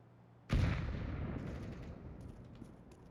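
A grenade explodes in a bomb-defusal shooter video game with one sudden loud blast, then a long rumbling decay that fades over a few seconds, with faint clinks near the end.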